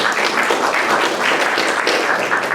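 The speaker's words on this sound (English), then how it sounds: "He deserves a round of applause." An audience claps for a speaker at a community history talk in Brookline, a steady, dense round of applause from a room full of people, moderately loud and continuous throughout.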